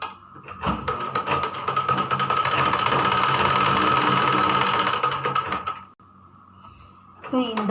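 A sewing machine stitches a blouse seam in one long, steady, rapid mechanical whir with a fine ticking texture. It runs loudly for about five seconds, then stops abruptly, leaving quieter handling noise.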